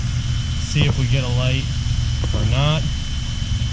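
A Volvo car engine idles steadily while warming up after a full service, a low constant hum running beneath a man's speech throughout.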